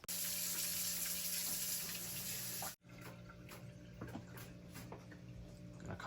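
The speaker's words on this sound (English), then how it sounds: "After that, I went and washed my hands in preparation for the prepping for this dish." A kitchen tap runs loudly and steadily while hands are washed under it. The flow cuts off abruptly partway through, leaving quiet room tone with faint drips and small handling sounds.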